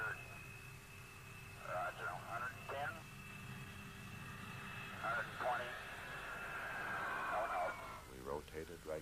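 A fixed-wing airliner prepares for takeoff as its engines hold a steady drone with a sustained whine, while radio-like cockpit voices talk over it in short bursts.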